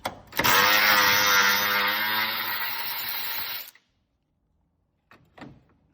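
A power tool whirs loudly and steadily for about three seconds while backing out the 10 mm bracket bolts on a 2016 Acura TLX 3.5L engine, then cuts off, followed by a brief faint clatter of parts.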